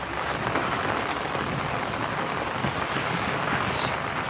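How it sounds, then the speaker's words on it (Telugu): Heavy rain pouring steadily during preparations for a Varalakshmi Vratam puja at home. It is a loud, continuous broadband wash with no breaks. "ఎంత వర్షం వస్తుంది."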